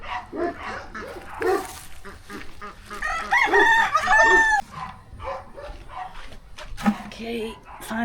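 A rooster crows loudly nearby, its drawn-out call rising and falling, with dogs barking and a person talking around it.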